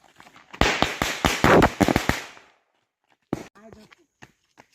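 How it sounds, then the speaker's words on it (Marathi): Firecrackers set off in a street celebration of an India cricket win over Pakistan: a rapid string of sharp, loud bangs crackling for about two seconds, then a pause and a last scattered pop, with people talking briefly afterward. "इंडिया जिंकले आहे, तर आम्ही फटाके लावायला आलो आहोत"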